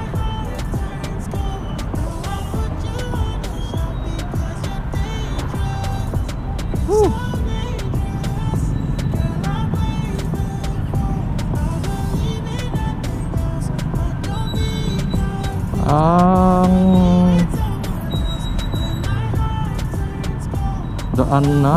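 Heavy road traffic on Commonwealth Avenue on a Monday, a steady dense rumble of cars, buses and trucks with a loud horn-like blare near the end, and people talking over it throughout.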